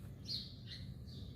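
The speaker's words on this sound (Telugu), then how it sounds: "బర్డ్స్ అరుస్తున్నాయి" Birds call near a home garden: a few faint, short high chirps over a quiet background.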